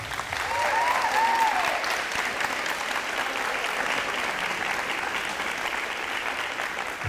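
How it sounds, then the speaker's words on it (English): Steady crowd applause for a high school hurdles athlete at a letter of intent signing, sustained and even throughout with a brief voice or whistle near the start. "So let's give him a round of applause."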